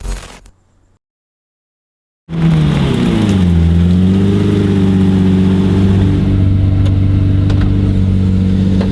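A Lamborghini Murcielago LP640 V12 starts after a short silence, then settles into a loud, close, steady idle with a deep rumble. A brief swell in pitch marks the start before it evens out. No voices are heard.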